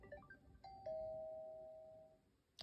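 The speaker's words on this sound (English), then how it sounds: "And a doorbell." Doorbell chime in the Toca Boca video game: a short rising run of tones, then one clear sustained ding that slowly fades, heard alone and fairly quiet.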